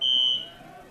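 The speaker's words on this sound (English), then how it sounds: "I don't know what the issue is with the fire alarm here" A fire alarm sounds at a high school football stadium during a game: a loud, steady high-pitched electronic tone rings for under half a second, then cuts off and fades, leaving faint crowd and ambient noise.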